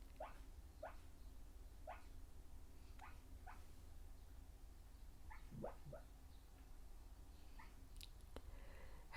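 A sleeping dog whimpers and yips softly while dreaming, giving a string of short, high squeaks spaced about a second apart, with a faint snuffle or muffled woof partway through, all fairly quiet and close in an otherwise calm room.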